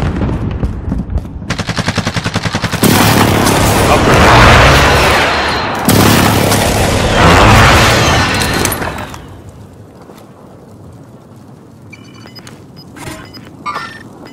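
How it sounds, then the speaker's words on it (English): A precision airstrike explodes in Warzone, with several heavy, loud booms and crackling blasts in quick succession that sound close. Gunfire and rumbling follow, then the noise fades to quieter scattered sounds. "Be advised, friendly precision airstrike inbound."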